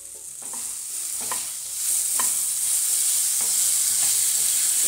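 Chicken pieces fry in a pan while being turned, giving a loud, continuous, bright sizzle with soft clicks and scrapes from stirring, close up and with no voices.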